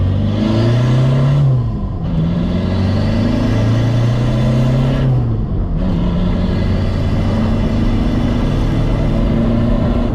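VW TDI diesel car engine revving, loud and close, with repeated rises and falls in pitch over a steady rumbling idle and no talking.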